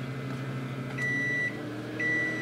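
A microwave oven with a bar of Ivory soap inside hums steadily, then gives two clear electronic beeps about a second apart, close and distinct over the running drone.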